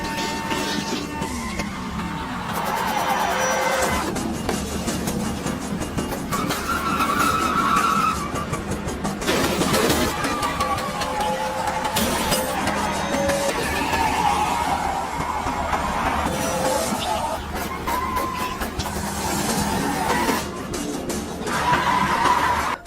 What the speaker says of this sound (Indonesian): sehingga mobil itu melaju tak terkendali